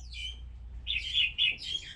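A caged white-eye songbird sings nearby in quick, high, thin chirping phrases, several short bursts over a low background hum.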